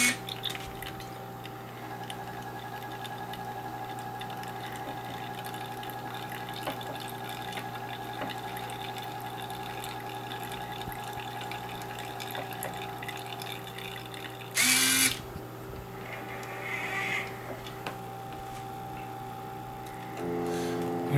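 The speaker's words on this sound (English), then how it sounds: "This hopper rotates and drops a pellet of ice, not a pellet, but a slot of powdered ice" A Dryce Cream machine's hopper rotates to drop a measure of powdered ice, giving a quiet steady mechanical hum with faint ticking, a brief louder clunk midway and a short rattle near the end.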